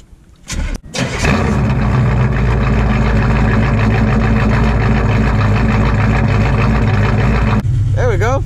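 A carbureted Chevy OBS truck engine cranks briefly, catches and fires up, then settles into a loud, steady idle that runs close to the microphone for several seconds before a brief change near the end.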